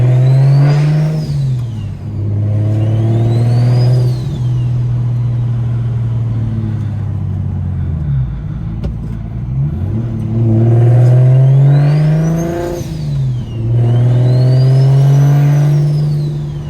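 A car fitted with a DocRace single turbo accelerates in repeated aggressive pulls, its engine note rising and falling with whining turbo spool and a deep rumble, loud and close, partial throttle.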